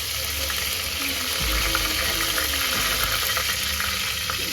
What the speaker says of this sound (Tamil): இப்போ கொஞ்சம் கருவேப்பிலை, அதுவும் நல்லா பொரியுது.